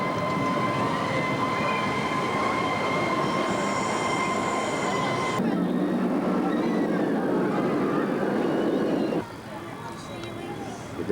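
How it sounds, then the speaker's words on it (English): A small ride-on train rolls along with steady rumbling and high metallic squeals, its clatter continuous and close, a voice briefly talking over it. "Just going for a ride on this little train now."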